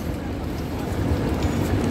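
Rajdhani Express 2AC coach running after leaving Durgapur, a steady broadband rumble of wheels and carriage noise, loud and continuous throughout with no pauses.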